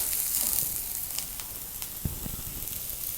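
Mixed vegetables sauté in a pan for chilli chapati, a soft, faint sizzle with occasional pops and stirring clicks, no voices.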